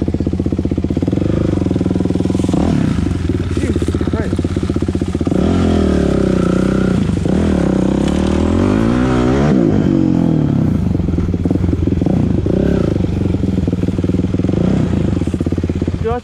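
Dirt bike engine revving hard and continuously on a wooded hill climb in Clayton, New Jersey, loud and close with rising and falling pitch, clattering and scraping from the terrain mixed in.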